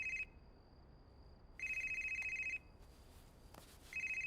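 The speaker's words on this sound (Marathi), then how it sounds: "फोन वाजतोय" A telephone rings in two-tone electronic bursts, a short one at the start, then a longer one about a second later, and another beginning near the end, with faint room quiet between rings.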